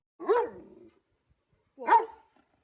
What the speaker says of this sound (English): has such an intense, deep bark